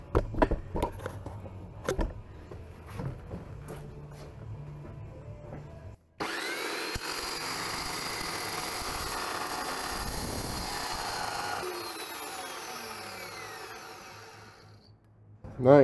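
A power tool cuts down a steel winch mount for an equipment trailer build, starting abruptly after a few scattered clanks and running steadily and loud for about nine seconds before tapering off.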